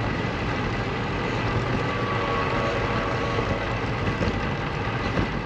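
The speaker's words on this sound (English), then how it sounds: "Wind is pretty strong right through here." Strong wind roaring past a cyclist riding on a road, a dense, steady broadband rush that stays loud and unbroken the whole time with no voices.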